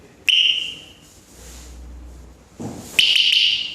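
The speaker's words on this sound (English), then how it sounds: "triple beep means it's on the lowest setting" A 110 dB anti-theft alarm gives a single loud, shrill electronic beep near the start and another sustained high beep toward the end, with a low hum and a brief thump between them.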